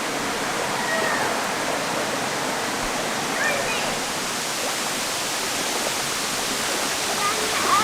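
Rushing water at a river waterfall pours as a steady, loud, broadband roar, unbroken and constant, with no voices heard.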